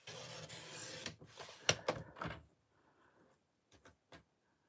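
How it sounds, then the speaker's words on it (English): A paper trimmer slices through a cardstock panel for a Christmas card, giving a short close scraping glide followed by a few sharp clicks and taps, faint and brief in a quiet room. "I am going to bring in my trimmer and cut this down to 3 3/4 by 5"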